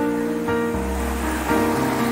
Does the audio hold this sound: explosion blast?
no